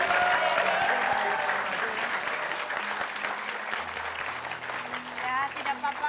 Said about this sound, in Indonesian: Tapi kita kasih tepuk tangan dulu sekali lagi.